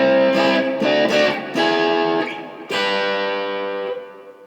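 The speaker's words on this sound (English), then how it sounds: "My Demon FX tube screamer" An electric guitar played through a Demon FX Tube Screamer overdrive pedal rings out in a few loud, sustained distorted chords and notes, close and alone, each swell decaying slowly before the next strike.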